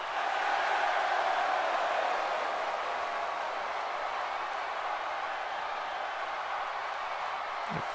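Crowd chanting NXT at a main event in the WWE 2K17 video game, a loud continuous wash of arena voices that holds steady throughout with no clear breaks.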